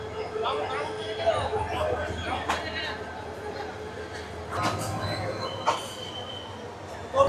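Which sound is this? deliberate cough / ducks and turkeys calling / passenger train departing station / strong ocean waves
passenger train departing station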